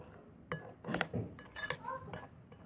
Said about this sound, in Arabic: ابتدي ان انا اقلبهم